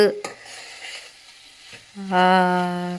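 Chicken curry sizzles and fries in a pan with onions, green chillies, curry leaves, coriander, moringa leaves, salt, turmeric, chilli powder and ginger-garlic paste, the sizzle swelling loud near the end after a few clinks of stirring.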